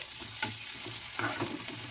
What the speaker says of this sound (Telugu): జీలకర్ర ఒక్క నిమిషం పాటు వేయించుకొని